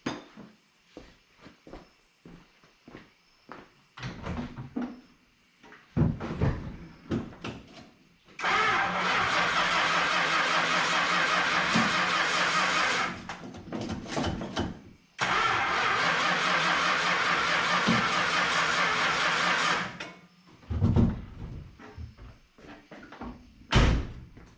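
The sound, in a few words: engine cranking and starting after Carter BBD carburetor rebuild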